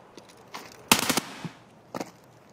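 Gunfire in the video game Escape From Tarkov: a sharp loud burst of rapid shots, followed by a couple of fainter single reports and a short second burst.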